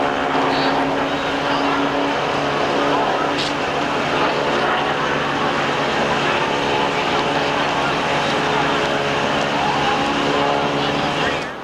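A 1992 NASCAR stock car roars from a driver's in-car camera at Atlanta, its engine loud, close and sustained with a steady droning whine throughout, and a voice faintly under the din.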